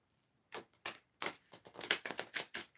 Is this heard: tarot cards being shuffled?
yes